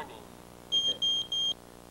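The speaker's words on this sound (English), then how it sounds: "It is indicated by 3 beeps, flashing LED, flashing gas range of the sensor in alarm, and the display of the word warning." MicroMax Pro gas detector sounding its warning alarm: three short, clear electronic beeps in an even rhythm, near and loud over a faint background hum.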